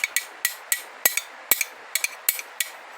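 Several light metal-on-metal taps driving a pin into a planetary gear set of a Ford BF/FG automatic transmission, sharp clicks in an uneven rhythm, close and clear with no talk.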